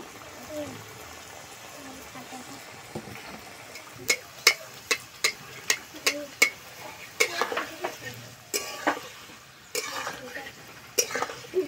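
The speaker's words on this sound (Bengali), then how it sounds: "রোলগুলো ভাজার জন্য তেল খুব ভালো করে গরম করে নিয়েছি" Potato rolls frying in hot oil, a soft sizzle with a series of sharp clinks and scrapes from a utensil against the pan, some in a regular rhythm, and a voice speaking now and then.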